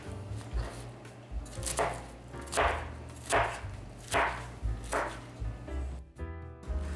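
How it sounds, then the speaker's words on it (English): Napa cabbage cut into smaller pieces on a cutting board, five or six evenly spaced crunchy knife strokes close by, with a low background hum. "Then I cut the cabbage into smaller pieces."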